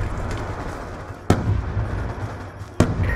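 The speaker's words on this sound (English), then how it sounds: "Grenade! Move!" A grenade goes off in a tactical multiplayer shooter match, one sharp loud burst followed by a second similar blast about a second and a half later, both rising out of steady low battlefield rumble.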